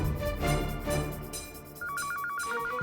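A telephone rings in a Gujarati-Hindi household drama, a repeated electronic two-tone trill arriving after a second of background music and continuing steadily to the end.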